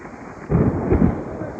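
Thunder rumbling during a storm in a dense forest, a low, loud roll that swells about halfway through and carries on to the end, with rain-like noise underneath.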